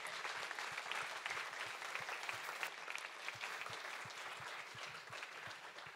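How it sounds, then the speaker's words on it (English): Audience applause for a speaker at a tech meetup evening, dense steady clapping from a room of people, fairly distant and soft, heard alone without talk. "So another round of applause."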